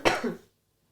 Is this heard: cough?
yes